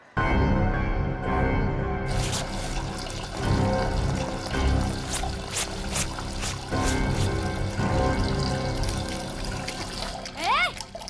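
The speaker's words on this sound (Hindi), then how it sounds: "ये नल क्यों बंद कर रही है? दिख नहीं रहा है मैं कपड़े धो रही हूँ?" Tap water runs steadily and loudly while clothes are washed by hand, a continuous splashing pour that fills the clip, with voices talking over it and a brief high squeak near the end.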